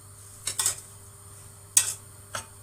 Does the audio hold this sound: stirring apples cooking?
yes